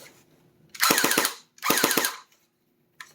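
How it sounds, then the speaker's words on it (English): A GFAP13 airsoft pistol fires two loud, close automatic bursts of rapid snapping shots separated by a short pause, with a faint single click near the end. "There's automatic fire"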